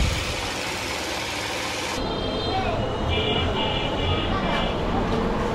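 A Honda XL motorcycle engine runs steadily just after being restarted, a loud, dense mechanical rumble held up close for the whole stretch with no break.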